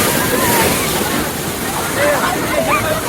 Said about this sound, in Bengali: আর একটা বড় বড় ঢেউ আসছে দেখো